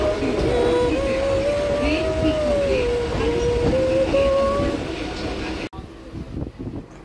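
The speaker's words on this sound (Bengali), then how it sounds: "আর এই ট্রেনের পেছনে বনগাঁটা আসছে।" Local train pulling into Ranaghat station, a loud rumbling roll with a sustained whining tone that wavers as it slows, then a sudden drop to quieter platform noise with faint voices.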